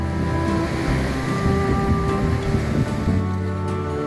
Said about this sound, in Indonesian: angin semilir yang bersatu dengan suara ombak